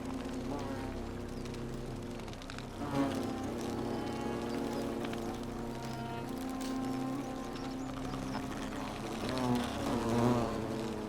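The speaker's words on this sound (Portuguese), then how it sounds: "Tem abelhas." Bees buzz continuously in the video game The Forgotten City, a steady droning hum at moderate level with faint speech mixed in.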